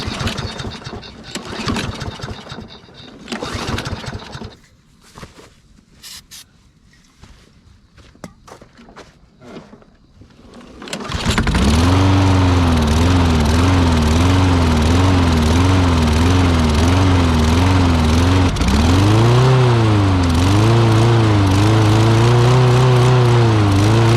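A 1980s Case 446 garden tractor: uneven sputtering and shuffling at first, then the engine catches and runs loud and steady while mowing, its pitch rising and dipping under load.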